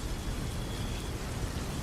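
Steady rain falling, a dense even hiss of drops with a low rumble beneath, with no voices.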